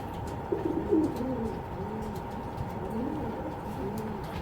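A male racing pigeon coos repeatedly for a female, soft rolling low calls close by over a steady background hum, with no talk.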